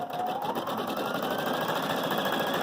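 A Viking Designer Brilliance 80 sewing machine races at high speed, a continuous fast whirring motor with rapid needle clatter, steady and close throughout.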